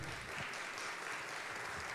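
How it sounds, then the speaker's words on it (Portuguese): Brief, steady applause from an audience at a panel discussion on digital competition, a soft, even spread of clapping heard from some distance for about two seconds. "Palmas para o conselheiro."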